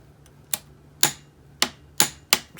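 Five sharp metallic clicks from a torque wrench tightening the clutch nut on a Honda 400EX ATV, spaced unevenly and ringing briefly, close and fairly loud in a quiet workshop.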